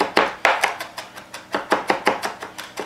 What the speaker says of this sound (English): And you're gonna start chopping it